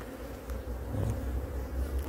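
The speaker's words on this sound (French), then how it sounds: "la colonie est relativement calme, même si ce sont les abeilles de l'ancienne reine, avec un comportement limite" Honeybees hum steadily at an open hive while a beekeeper inspects frames of brood and nectar in a fairly calm colony with an old queen, a continuous low buzz close by.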